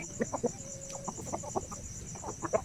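A Basilan Shamo gamefowl clucks in a rapid series of short, soft calls at close range, with a steady high insect-like hum running underneath.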